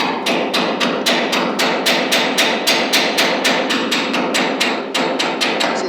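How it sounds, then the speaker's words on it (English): A chipping hammer knocks slag off a fresh weld, producing a rapid, even series of loud, close metallic strikes, about three or four per second, continuing without pause. "You chip off the slag with this thing here"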